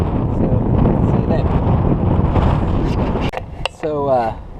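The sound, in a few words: wind blowing at a small pond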